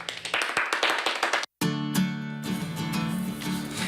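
Mr. French, the record-holding clapper, claps extremely fast, a rapid burst of close sharp claps that stops abruptly and gives way to a sustained tonal background sound.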